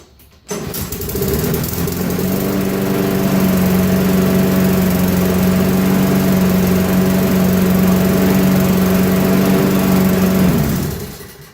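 A small Craftsman push lawn mower engine starts and settles into a steady, even idle, loud and close, running for several seconds before cutting off.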